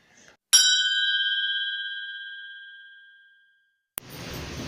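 A notification bell sound effect strikes a single bright ding that rings out and fades over about three seconds. A short click follows, then faint background hiss.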